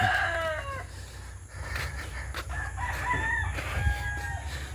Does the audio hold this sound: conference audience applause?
no